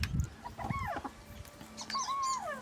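Chickens on a farm calling out in short rising squawks and clucks, fairly close over a soft background hum, with no talking.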